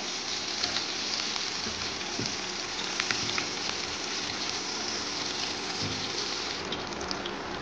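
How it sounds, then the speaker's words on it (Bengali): Dense, steady crackling sizzle of onions frying in oil, even and continuous with faint pops throughout. "আমি দিয়ে দেবো পেঁয়াজ, হালকা বাদামি কালার করে ভাজবো।"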